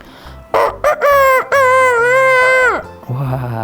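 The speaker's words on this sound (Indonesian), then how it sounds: "Ayam berkokok teman-teman." A rooster crows at daybreak: one long, loud, close cock-a-doodle-doo, opened by a few short clipped notes and trailing into a softer, lower call.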